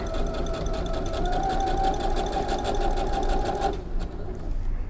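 A sewing machine stitches a curved shirt neckline in a steady, loud mechanical whir with fast rhythmic needle ticking, easing off near the end.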